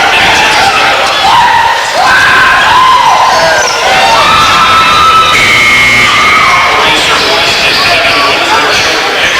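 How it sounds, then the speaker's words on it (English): A college basketball crowd backing the Titans cheers and shouts loudly and continuously in an arena, with whistles and whoops, while a commentator talks over it. "Here's it from the Titan crowd as he finishes with 18 points and 12 rebounds"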